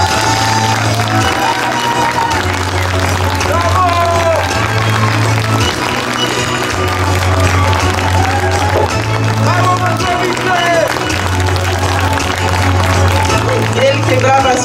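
Audience applause after a theatre performance at a youth theatre festival, steady dense clapping and some cheering from a crowd, continuous and loud throughout, with a voice speaking over it.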